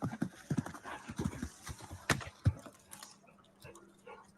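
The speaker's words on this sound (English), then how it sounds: "Pretty horse." Horse hooves clip-clopping in a series of irregular, fairly close knocks, mixed with other rustling and a few sharper hits, then fading to quieter background toward the end.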